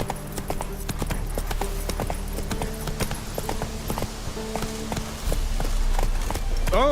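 A horse gallops in The Witcher 3, its hooves pounding in a fast, steady rhythm that stays close and loud, layered over game music and ambience.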